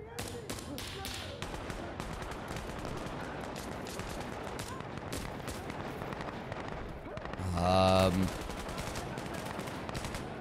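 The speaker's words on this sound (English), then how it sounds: "It's a lot of gunfire from a lot of directions." Rapid gunfire from many directions in the video game Insurgency Sandstorm: dense, overlapping bursts and shots that run the whole time, with a louder, heavier blast near the end.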